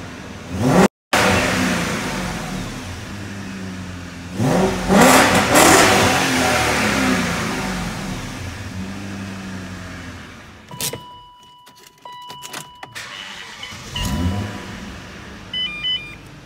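A BMW 540i engine with its muffler deleted rumbles and revs loudly with a rough, throaty roar, then drops off to a quieter idle with a faint electronic beep.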